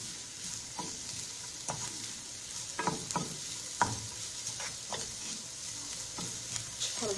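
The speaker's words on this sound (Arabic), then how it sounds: "ندير البصلة، تتشحر لينا هاد البصلة هادي." Onion frying in a pan, a steady quiet sizzle with intermittent scraping stirs at close range and no talking.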